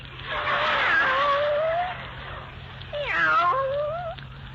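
A cat meows in a 1940s radio drama, two drawn-out, wavering meows separated by a short pause, close and fairly loud over a faint steady hum.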